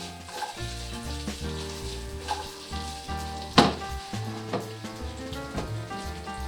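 Carrots stir-frying in a hot pan give a steady sizzle, with clinks and scrapes of stirring and one sharp clatter midway, close and clear with no talk.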